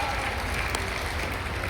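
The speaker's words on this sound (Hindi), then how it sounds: "ताली वाली बजाकर के जरा अभिनंदन करें मेहमानों का।" A crowd applauds steadily at a public welcome for guests, a dense, even wash of clapping with no breaks.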